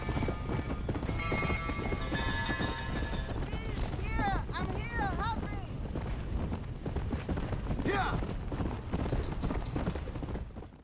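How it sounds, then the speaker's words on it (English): Horse hooves from the video game Red Dead Redemption: Undead Nightmare clip-clop in a steady running rhythm, with a whinny partway through, all under continuous talking. "This makes War and Death the only two horses of the apocalypse worth keeping once you find them"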